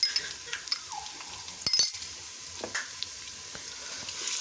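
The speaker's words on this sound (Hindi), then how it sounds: "5 से 6 सेकंड के लिए हम अदरक लहसुन को फ्राई कर लेंगे" Ginger garlic paste frying in a pan with lightly browned onions gives a steady, fairly soft sizzle, broken by a few brief clicks of a utensil against the pan.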